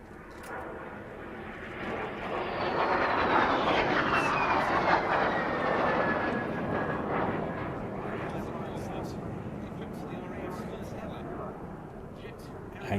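Two ex-Swiss Air Force de Havilland Vampire jets fly past, a broad roaring jet noise that swells over a few seconds and then slowly fades, staying loud throughout and not quite dying away.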